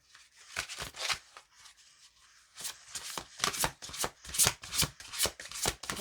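Oracle cards are shuffled by hand in quick, crisp riffling bursts, close and fairly quiet with short pauses between rounds.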